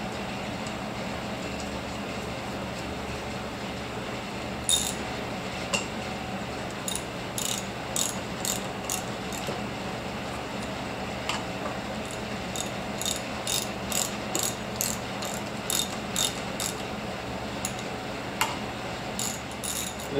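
Ratchet clicking in bursts as bolts are tightened in a crisscross pattern on a Kawasaki KLR 650 motorcycle, sharp rapid clicks repeating over a steady background hum, close and moderately loud, no talking.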